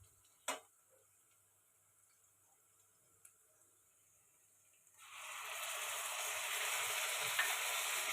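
Ginger and garlic dropped into hot oil: after a quiet stretch with a couple of isolated clicks, a steady, loud frying sizzle begins abruptly and continues to the end.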